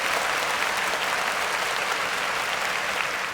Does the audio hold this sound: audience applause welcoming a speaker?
yes